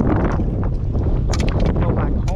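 Loud, blustery storm wind buffets the microphone on a kayak in low rumbling gusts, with splashy water noise and brief bursts of sound on top.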